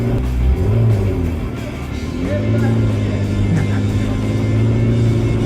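A McLaren's engine revs with rising and falling pitch in city traffic near streetcar tracks, a loud close drone that persists throughout the clip.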